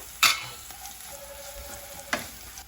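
Mustard seeds, cumin, sesame seeds and curry leaves hit hot oil, making a continuous crackling sizzle broken by two sharp bursts as more ingredients drop in, with no talking.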